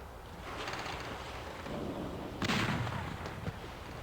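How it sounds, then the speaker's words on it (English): Ship cannons firing in the naval video game Battle Navigation, a muffled burst of shots and a sharper boom near the middle, over a steady low game rumble with no talking. "we're going to attempt to shoot him."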